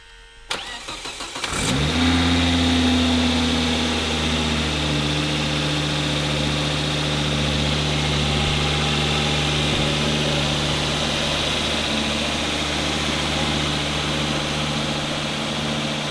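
A Volvo S60R engine with a newly installed intercooler cranks briefly, catches and roars, then settles into a steady, loud idle with a constant low rumble.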